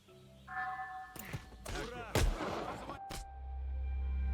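Video game gunfire from a Russian rebel resistance setting: several sharp, loud shots crack in quick succession over a background hum, alongside scattered effects.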